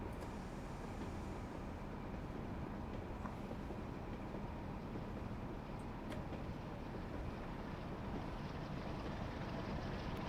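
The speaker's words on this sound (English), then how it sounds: "I hear a train." A train on the Northern TransPennine line in the Train Sim World 4 game rolls along as a steady, even low rumble that holds throughout, with no one talking.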